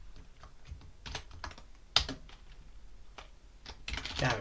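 Fingers type a short Linux command on a computer keyboard, a quick run of close, crisp key clicks in small bursts, with a sharper strike near the middle and a busier flurry of taps at the end.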